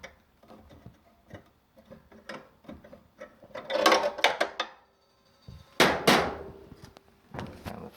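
Small 5/16 inch bolt being loosened on a coin-operated washer: irregular metallic ticks and clicks from the wrench, with a few louder clattering bursts of metal parts moving.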